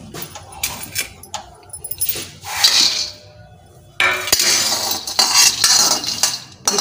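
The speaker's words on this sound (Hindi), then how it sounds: "तो पहले हम मूंगफली के दाने को भून लेंगे।" Peanuts roasted in a hot kadhai, stirred with a metal spoon: bursts of clattering, scraping and rattling nuts against the iron pan, loud and close, separated by brief quieter pauses.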